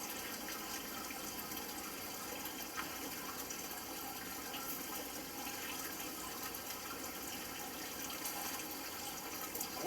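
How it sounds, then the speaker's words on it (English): Aquarium siphon draining water from a saltwater fish tank, a steady close rushing, gurgling flow that holds for the whole stretch without pause. "I'm going to go ahead and stop the siphon."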